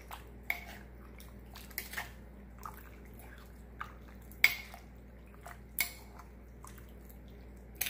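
A utensil stirring shrimp aguachile with clamato and cucumber in a stone molcajete, producing sparse, sharp clinks and scrapes against the bowl over a quiet background.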